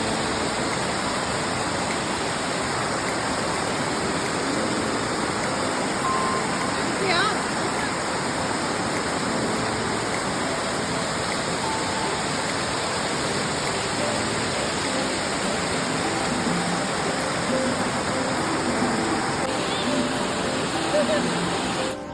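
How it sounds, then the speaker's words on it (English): Steady, loud rush of flowing spring water in Gurez fills the whole stretch, a constant broadband roar with no pauses. "Listen to the sound of water."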